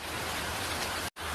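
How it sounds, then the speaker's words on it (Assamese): Heavy rain pours steadily as a dense, loud wash of noise across the whole moment, with no voices, and cuts out abruptly for an instant near the end. "ইমানেই ডাঙৰ বৰষুণ"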